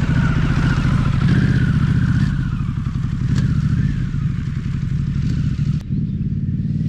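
An adventure motorcycle being ridden on flat ground, its engine droning steadily and loudly up close with a low rumbling pulse and slight shifts in pitch.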